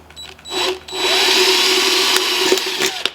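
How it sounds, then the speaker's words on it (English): A power drill with a 7/64 bit whines steadily at close range for a few seconds, drilling into a metal can, with brief starts before and a few sharp clicks as it cuts in. "I'm gonna drill as center as I can in this can."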